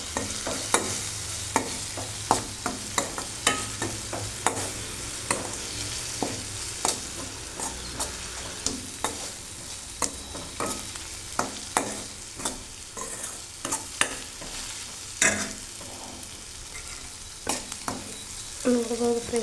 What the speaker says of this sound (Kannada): ಈ ಬೆಂಡೆಕಾಯಿನೆಲ್ಲ ಇದರೊಳಗಡೆ ಹಾಕ್ತಾಯಿದ್ದೀನಿ. ಹಾಕ್ಬಿಟ್ಟು ಫ್ರೈ ಮಾಡ್ಕೊಳ್ಬೋದು ಈಗ ಮತ್ತೆ ಚೆನ್ನಾಗಿ.